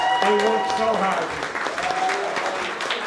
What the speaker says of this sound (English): let's have a huge round of applause for the team that put this all together